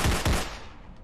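Two quick, loud gunshots from the movie gun in the horror game Sponge Massacre, close and booming, followed by a fading echoing tail.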